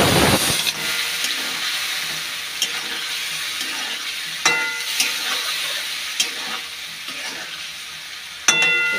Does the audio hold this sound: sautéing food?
yes